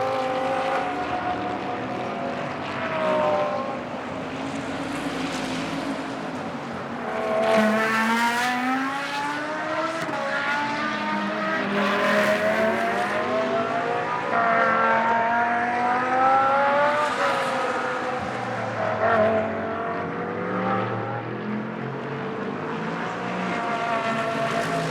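GT race cars in practice at a circuit in Moscow, a WRT Audi among them, roar past one after another, engines rising and falling through gear changes and passing close then fading.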